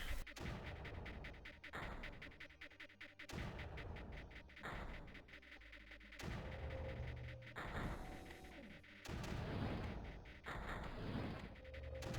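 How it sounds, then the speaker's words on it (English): Mortar shots in the strategy video game Creeper World, heard as a steady series of loud, evenly spaced synthetic booms roughly every second and a half. "Try to move that mortar onto the emitter there."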